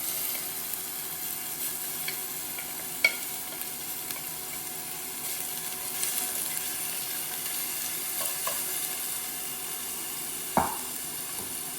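Onions sautéing in a pan for a maple-infused New England chili, a quiet steady sizzle with scattered light clicks and one sharper knock near the end, close by and without speech.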